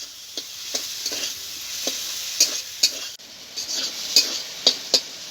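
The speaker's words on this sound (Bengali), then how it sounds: "ভেজে রাখা আলুটা দিয়ে আমি একটু নেড়ে চেড়ে নেবো" Fried Chandramukhi potatoes stirred into cooked-down spice paste in a pan: a steady frying sizzle with regular scraping strokes of the spoon, about ten distinct stirs, close and clear with no voices.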